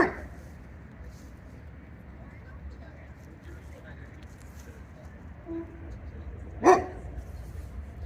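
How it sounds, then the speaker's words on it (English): A stray dog in a park barks once at a distance, a short sharp burst against quiet outdoor background noise. "He's barking at the other dogs that are in the park here."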